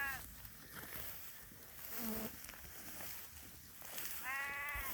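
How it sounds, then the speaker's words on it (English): Ewes and young lambs in a farm paddock let out a few bleats, one near the start, one in the middle and a longer call near the end, over a steady outdoor background with insects buzzing. "there are some younger lambs in here as well, like this little one, and there are ewes that will be having another lamb in here"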